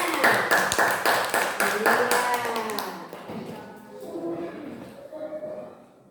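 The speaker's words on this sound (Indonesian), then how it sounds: "Coba tepuk tangan untuk teman-teman kalian sudah mempresentasikan." Classroom pupils clap for classmates after a presentation, a burst of scattered claps in the first few seconds that thins out, followed by children's chatter.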